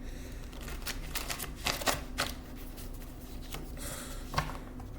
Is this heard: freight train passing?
no